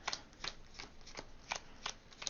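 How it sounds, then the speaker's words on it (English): Flesh and Blood trading cards are pile shuffled: crisp slaps land one after another at a quick, fairly even pace, close and alone, with no talk. "here's how long a pile shuffle is going to take me"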